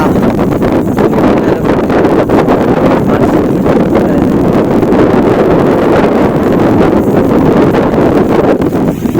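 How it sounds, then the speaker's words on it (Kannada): Strong, steady wind roars across an open microphone throughout on the Kumara Parvatha mountain trek, a dense continuous rush with buffeting gusts and no voices. "ಗಾಳಿ ಹೆಂಗೆ ಬೀಸುತ್ತದೆ"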